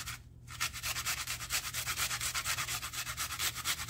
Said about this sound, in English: I'm going to grate a clove of garlic right into the potatoes.